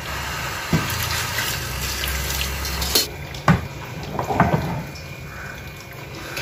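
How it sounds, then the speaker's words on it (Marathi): Water being poured into a pot of wheat mixture cooking for kurdai, a steady low rush of running liquid with a few soft knocks and splashes near the middle, close by with no talking. "याच्यात थोडस पाणी घातलं"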